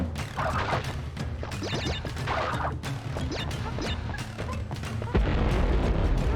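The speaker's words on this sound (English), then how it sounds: "Fucking explosion." Explosions and crate smashes in the PlayStation 2 Crash Bandicoot game, a rapid series of loud booms and cracking hits with clattering debris, ending in a heavy rumbling blast.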